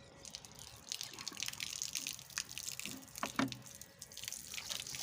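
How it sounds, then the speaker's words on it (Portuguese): Water trickling and dripping from the tap of a rural bus's water cooler, a soft, uneven splashing flow with a few brighter drips standing out partway through, faint and close. "Aqui é a torneira."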